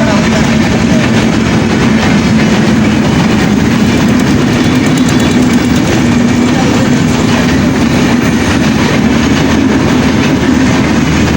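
A train passes close by with a loud, continuous rumble and rolling clatter of wheels on rails that fills the whole stretch, a voice faintly audible beneath it.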